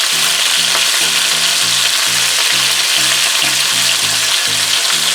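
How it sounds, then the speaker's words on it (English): Oxtail browning in a hot pan for a Jamaican stew, a loud, steady sizzle and crackle of frying meat close by, with a faint rhythmic tone underneath and no talk. "when I finish browning the oxtail, and when I'm gonna start the stewing"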